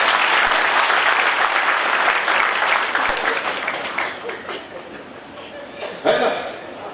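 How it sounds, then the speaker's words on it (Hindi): Loud audience clapping at a community gathering, a thick sustained burst of applause that gradually thins and softens, with a few voices and a final louder clap near the end. "ताली बजाओ जोर से।"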